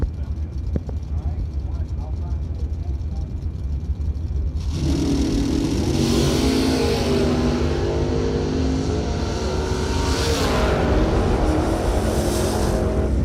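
A Pontiac Firebird and an Oldsmobile Starfire at a drag strip bracket race, engines roaring loud and sustained after an abrupt launch, with a commentator talking over them.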